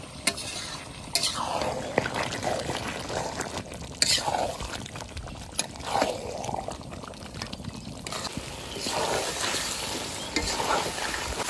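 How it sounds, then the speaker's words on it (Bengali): Mutton and onions frying in a pot while being stirred, a steady close sizzle with scraping stirs sweeping through at intervals, and occasional knocks of the spoon against the pot. "এবার ভালো করে জাল দিতে হবে মাংসতে তাহলে পেঁয়াজের জলটা টানবে"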